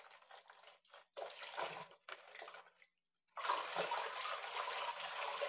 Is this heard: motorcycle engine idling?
no